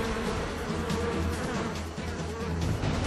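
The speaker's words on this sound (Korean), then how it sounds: "말벌의 체온을 치사 온도까지 높이기 위해 말벌을 공처럼 감싸는 수십 마리의 꿀벌들" Dozens of honeybees swarm a hornet into a tight ball, a dense, steady, close droning buzz that continues without a break.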